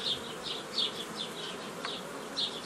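Honey bees at a hive in an apiary give off repeated close, high-pitched buzzes as individual bees fly past, steady and fairly faint over a soft background hum.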